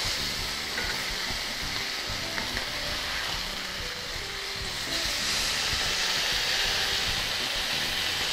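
Tilapia fillet frying in a pan just after being flipped, a dense continuous sizzle and crackle of hot oil, close and steady, with no talking.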